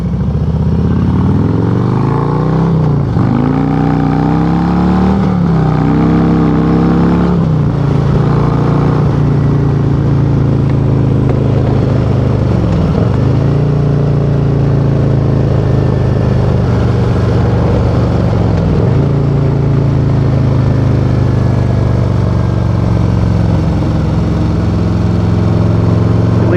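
A Harley-Davidson bagger motorcycle's engine rumbles loudly and continuously while riding, its low throb rising and dipping with throttle changes and gear shifts.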